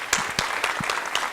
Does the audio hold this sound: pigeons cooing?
no